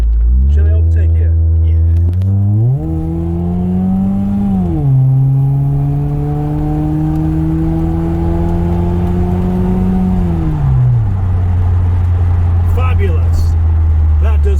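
A Honda Prelude (non-VTEC) engine revs up steadily as it accelerates to overtake on an open road, the drone rising in pitch through the gears, loud and close from inside the cabin, with someone talking over it.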